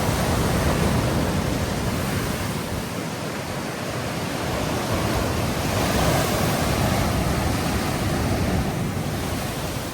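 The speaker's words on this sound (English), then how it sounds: "Check out the waves." Ocean surf breaks against the rocky Madeira coastline in a steady, loud roar of churning water and spray, with wind rushing across the microphone and no voices.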